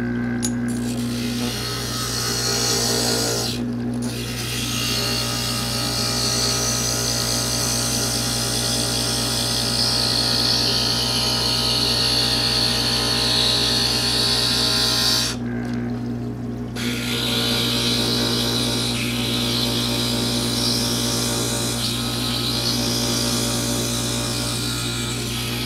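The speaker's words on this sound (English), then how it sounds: "We'll grind this down." A glass grinder grinds down a cut glass piece, giving a steady, close motor hum with a gritty grinding rasp that runs continuously for the whole stretch, with a couple of brief louder scraping bursts.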